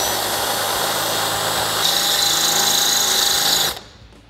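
Power drill boring through the metal body of a Jeep Wrangler with a 5/16 inch bit, a steady high whine held for a few seconds before stopping abruptly.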